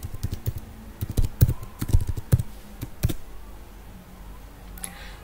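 Quick bursts of keystrokes on a computer keyboard as three-letter airport codes are entered, close crisp clicks in uneven clusters that thin out toward the end, no talking.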